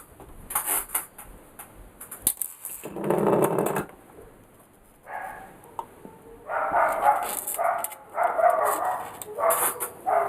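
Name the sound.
dogs barking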